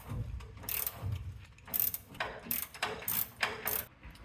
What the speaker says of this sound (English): So I put my ratcheting wrench with the long socket on the head of the bolt